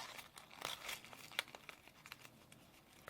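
Scissors snip through folded paper while a paper model of a full-size combat knife is assembled, giving a few crisp, close crinkling cuts and rustles in a quiet room with no talking.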